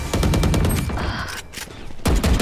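Rapid gunfire in the shooting game Valorant crackles in dense, loud bursts, pauses briefly, then resumes with another heavy volley.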